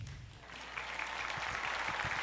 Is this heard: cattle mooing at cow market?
no